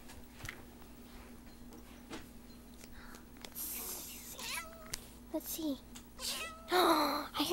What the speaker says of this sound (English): Let's see. I hear meowing.